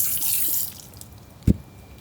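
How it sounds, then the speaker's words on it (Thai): Water sprayed to loosen and pull a rooted plant from its pot, with a soft hissing wash at the start that fades, then one sharp near splash or drip standing out alone. "ดูน้ำที่ฉีดมันจะได้ดึงลากออกมา"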